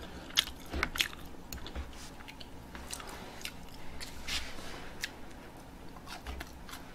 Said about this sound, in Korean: 저 이제 먹기 시작했는데 배가 안 부르냐님? 이제 먹기 시작했는데